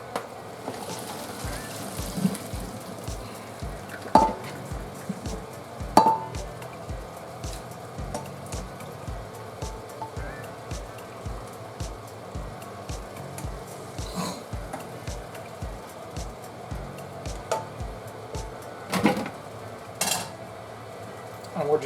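A utensil knocks and scrapes rhythmically against a pot as noodles are stirred into venison gravy, with steady repeated taps and faint bubbling, close by.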